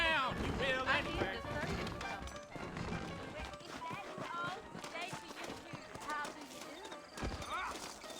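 Horse hooves clip-clop in the video game Red Dead Redemption, a rhythmic clopping mixed under game speech and background music throughout.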